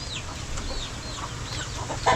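Chickens scratching at the ground for food cluck and chirp softly in short, scattered calls over a steady outdoor background.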